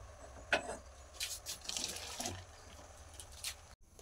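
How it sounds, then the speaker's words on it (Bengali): Boiled cabbage water is poured out of a cooking pot in a home kitchen, giving faint splashing and gurgling bursts over a few seconds, quiet and close, with no talk. "এবার এটাকে গ্যাস অফ করে ঢেলে নেব।"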